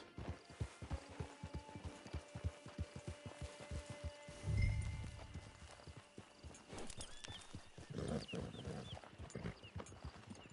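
A horse in the Red Dead Redemption 2 video game trots along with steady, even clip-clop hoofbeats. Near the middle there is a short burst of louder rumbling, and then the footfalls go on over a busy ambient background.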